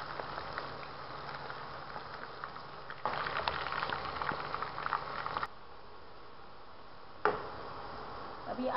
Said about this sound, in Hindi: आलू को हमको गुलाबी होने तक और सॉफ्ट होने तक इनको तलना है।